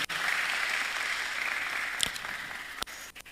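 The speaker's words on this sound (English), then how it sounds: "A round of applause for him." Audience at a national public speaking competition semi-final gives a round of applause, dense sustained clapping that fills the room, tapering with a few sharp knocks near the end.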